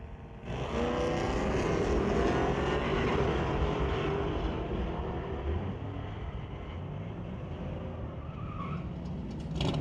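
A 1966 Ford Mustang drag racing down the strip at a sportsman race, its engine a loud, sustained roar that swells within the first second and holds steady at full throttle as the car runs down the track.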